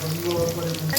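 Sliced onion sizzling in hot oil in a pan already holding cumin, dried red chilli, bay leaf and garlic for kabuli chickpea ghugni; a steady close crackle with a low hum beneath, no talk.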